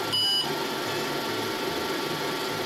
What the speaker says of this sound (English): You hear how much fucking beeping this thing's doing?